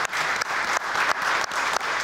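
Studio audience applauding after a home renovation product demonstration, steady clapping from a moderate crowd with a few brief dips, fairly close and continuous.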